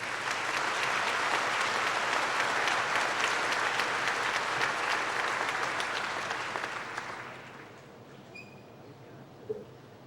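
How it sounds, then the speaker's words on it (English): An audience at a 2006 high school commencement applauds a valedictorian receiving a medal. Dense, even clapping fills most of the stretch, then fades out quickly near the end, leaving a quiet room with a small knock. "please join me with a round of applause"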